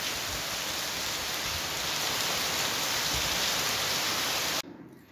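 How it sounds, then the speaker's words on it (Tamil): Heavy rain pours down steadily in a dense, loud, unbroken wash outdoors, then cuts off abruptly near the end. "இப்போ பார்த்தீங்கன்னா மழை வேறு லெவலில் பெஞ்சிக்கிட்டு இருக்கு."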